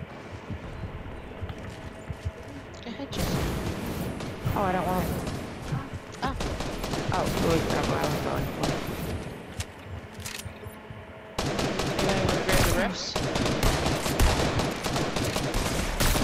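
Gunfire in Fortnite, bursts of rapid automatic shots and loud cracks that start after a quiet opening and return in dense, close volleys.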